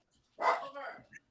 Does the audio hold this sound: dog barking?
yes